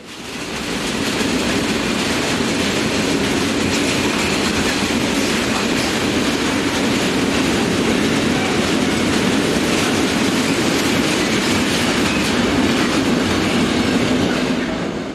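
A Hungarian locomotive hauls a freight train past, a loud continuous rumble of rolling wagons with rhythmic wheel clatter over rail joints and occasional faint wheel squeal, steady throughout.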